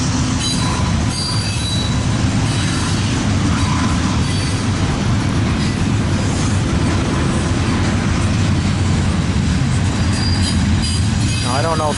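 A freight train rolls loudly and close through P yard, its heavy rumble running on with steady wheel noise and high metallic squeals from the rails, with faint voices in the background.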